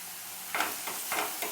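Chickpea masala with red chili powder sautéing in a pan, soft sizzling under a few quick scraping stirs of a spoon, brief and close, no talking.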